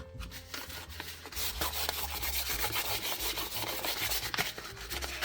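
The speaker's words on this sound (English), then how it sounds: "I'm going to give it another sanding." Rapid back-and-forth scratchy rubbing of sandpaper on a dried painted surface, close and steady, with brief pauses between strokes.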